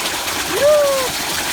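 Water gushes steadily and freely like an open shower, a continuous rushing wash that fills the whole moment, with a brief rising vocal whoop cutting through the middle.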